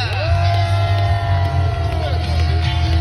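A monster truck show crowd bellows, whoops and cheers in a sustained roar, long shouts carrying over a heavy low rumble throughout.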